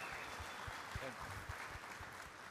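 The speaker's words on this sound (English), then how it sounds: "And so just a quick round of applause." Scattered clapping from a hackathon audience at Disrupt SF 2017, fairly quiet and brief, with a voice speaking over it.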